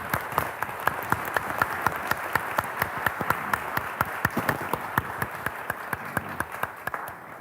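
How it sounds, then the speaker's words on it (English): A conference forum audience applauds steadily, with distinct individual claps standing out in a fairly even rhythm at moderate volume. "let's give him a hand and applause of welcome"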